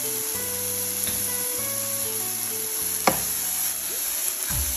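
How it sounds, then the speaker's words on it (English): Mushrooms sizzle steadily in a hot frying pan as a fork flips them, with a constant hiss, a low hum and a couple of small tapping contacts against the pan. "I'm going to do is to help myself with a fork, flip the white side because we want a golden brown color"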